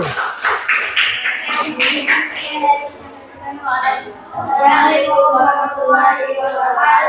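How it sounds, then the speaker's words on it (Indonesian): A classroom group claps for the first group after its presentation, a dense burst of hand claps and taps at the start that thins out as voices take over. "berikan aplaus dulu untuk kelompok 1"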